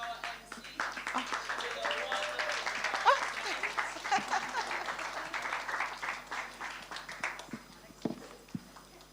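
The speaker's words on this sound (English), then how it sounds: "A round of applause for our MC." An audience at a girls' high school anniversary lecture applauds the MC, sustained clapping from many hands with a few cheers, tapering off near the end.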